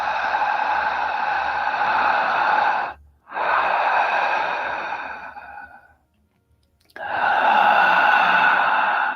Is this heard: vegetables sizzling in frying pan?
no